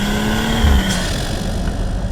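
A BMW's engine intake roars loudly and continuously as it revs, a dense close rumble with a steady tone and a brief swell partway through.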